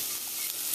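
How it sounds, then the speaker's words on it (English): Seasoning peppers and spices get a brief stir in a hot pot, a short burst of soft sizzling and scraping. "Just going to give that a quick stir"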